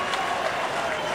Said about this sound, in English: Big build-up and a big applaud for a point.